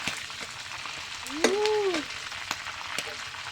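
Banana pieces fry in hot oil with a steady crackling sizzle and spattering pops throughout, and a brief tonal squeak rises midway. The sound is close and has no speech over it.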